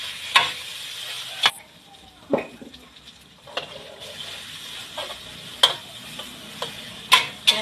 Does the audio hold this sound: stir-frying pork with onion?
yes